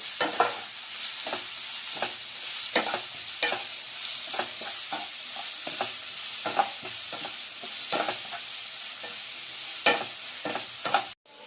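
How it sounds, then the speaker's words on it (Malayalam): Sliced onions sauté in a pan over a medium flame: a soft, steady sizzle broken by regular spatula scrapes and taps against the pan, near and moderately quiet, with no speech. "എന്നിട്ട് നമുക്ക് നന്നായിട്ടൊന്ന് വഴറ്റി കൊടുക്കാം"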